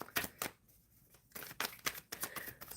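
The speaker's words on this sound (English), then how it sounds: "Shuffling for S12." Tarot cards shuffled during a live reading: faint, close papery riffles and soft slaps in short bursts with a brief pause, with no voices.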